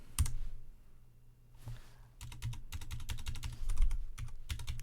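Fast typing on a computer keyboard while setting up a disk partition on RHEL 8, a close run of sharp key clicks in quick bursts after a brief pause, with no talking.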